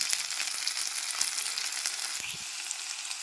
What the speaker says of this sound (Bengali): এরপর দিয়ে দেবো টমেটো। টমেটোটাকে একটু ভালো করে কষিয়ে নেব।